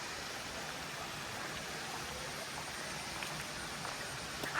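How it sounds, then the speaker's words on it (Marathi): A waterfall heard as a faint, even rush of falling water, a soft continuous broadband wash with no voices and no change in level. "हा बघा समोरच वॉटरफॉल आहे आपल्या"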